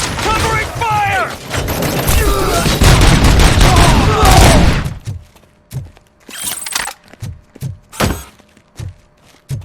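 Gunfire from a first-person shooter set in RoboCop: Rogue City: a dense, loud barrage with a voice shouting over it for about five seconds, then separate sharp shots spaced apart with short gaps.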